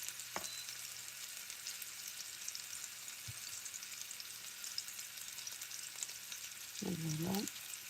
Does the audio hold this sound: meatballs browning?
yes